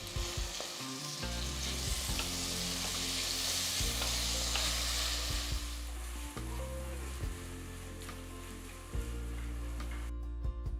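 Ginger garlic paste fries in a pan for a biryani, giving a loud continuous sizzle with occasional stirring scrapes and clinks throughout.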